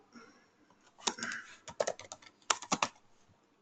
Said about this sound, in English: Let's open the command prompt and type who am I.